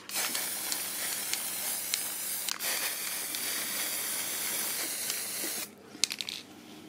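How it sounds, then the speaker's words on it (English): A spray can mists primer onto a guitar pedal enclosure in one long, steady hiss, then stops and is followed by a few light clinks and knocks. "So I'm gonna put it back and give it another spray."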